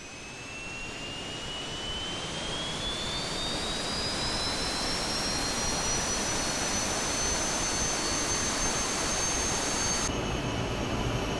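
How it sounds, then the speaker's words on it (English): The jet engines of a Learjet in the Aerofly FS2 flight simulator spool up from outside the aircraft, a loud, steady roar with a high whine that climbs slowly in pitch and then levels off. "we'll go outside to hear this aircraft spool up"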